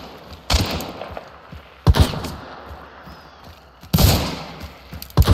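Gunfire in an action video game: sharp, loud bursts of shots arriving in four separate clusters, with quieter thuds and a low background hum between them.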